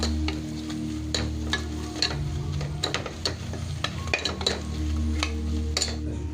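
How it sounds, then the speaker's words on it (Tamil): Onions and tomatoes with chili powder sautéing in a pan at home, a soft continuous sizzle under frequent metal spoon scrapes and clinks against the pan, close and moderately loud, no speech. "இப்போ இது நல்லா வதக்கி விடலாம்"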